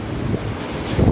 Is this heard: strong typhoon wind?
yes